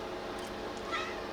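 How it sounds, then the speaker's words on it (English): A house cat meows once, briefly and faintly, in a room beside a desk, over steady low background hum. "There is a kitty."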